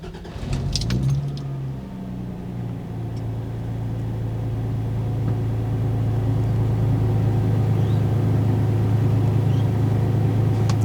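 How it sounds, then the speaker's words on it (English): Toyota 80 Series 4x4 engine starting and then idling, heard from inside the closed cab with windows up: a brief crank and catch, then a steady low droning hum that settles and holds. "first test, starting the motor with the windows closed"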